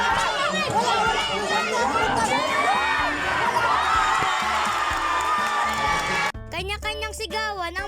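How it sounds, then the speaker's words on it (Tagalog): Loud crowd of fans from both sides shouting and cheering continuously at a championship game, dense and sustained, breaking off near the end into close speech. "Kanya-kanyang sigawan ang mga fans sa magkabilang team."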